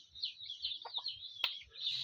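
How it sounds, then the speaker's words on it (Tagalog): Soft, repeated clucking from a chicken, faint and a little distant, over a high steady insect-like buzz and a brief sharp click. "Yung manok na titigas ang ulo"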